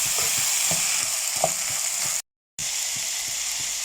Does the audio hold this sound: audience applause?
no